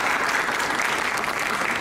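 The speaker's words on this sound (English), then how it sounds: "please give them a big round of applause for this wonderful event tonight" An audience gives a round of applause at an evening talk on American Islamophobia, a brief, even burst of many hands clapping filling the hall with no voices over it.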